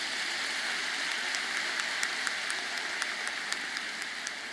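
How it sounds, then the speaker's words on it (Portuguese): Steady, fairly faint applause from a church congress audience as a couple stand to be honoured, a continuous wash of clapping with a few sharper claps standing out, no voices over it. "Vamos aplaudir o Senhor pela vida deles."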